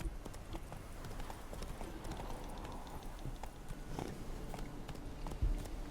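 Hooves of Roach, the horse in The Witcher 3, clip-clop rapidly in a galloping rhythm, moderately quiet over a rumbling, windy game backdrop, with no talk.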